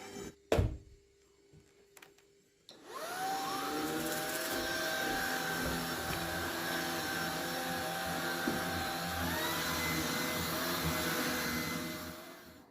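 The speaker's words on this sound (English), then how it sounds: "I'm going to take the hoover upstairs and hoover up the stuff" A cordless hoover vacuuming upstairs in a house starts after a few thumps, then runs as a steady, loud motor whine that shifts pitch slightly as it moves.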